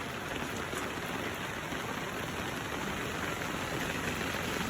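Heavy, steady rain pours down after a typhoon, a dense continuous hiss of drops drumming on surfaces, close and loud throughout with no letup.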